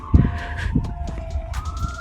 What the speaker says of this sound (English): So listen to the sirens.